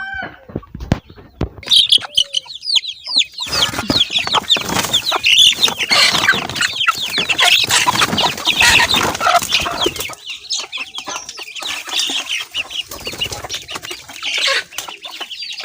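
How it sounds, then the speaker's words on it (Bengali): Freshly released chickens cluck and squawk while eating, wings flapping in quick bursts, their busy calls close and loud, with no one speaking. "আগে মুরগিগুলো ছেড়ে দেবো, মুরগিগুলো খেতে দেবো"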